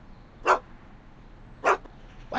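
A dog barking in the Back to the Future video game, three short separate barks spaced about a second apart over a quiet background hum, with no talk.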